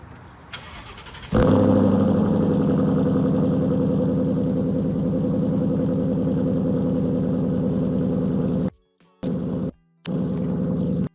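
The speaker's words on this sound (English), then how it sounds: "showing you a startup, cold start of that car for you right now" A 2015 Ford Mustang GT cold starts with a sudden loud crank and catch, then settles into a heavy, steady idle rumble close by, cut off abruptly by short gaps near the end.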